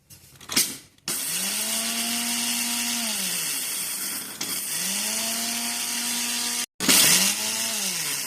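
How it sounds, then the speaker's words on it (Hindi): An electric mixer grinder whirs loudly while grinding a batch of spice masala. It runs in three short bursts, each motor whine spinning up and winding down, with brief pauses and clicks between runs. "थोड़ा रोक रोक करके चलाएंगे ताकि मिक्सी गर्म ना होने पाए"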